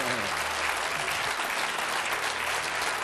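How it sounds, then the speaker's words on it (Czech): A studio audience on a Czech television quiz show claps steadily, a dense and even applause that holds at the same level for the whole stretch, with no voices on top. "Podívejte se, jak vám fandí příbuzenstvo"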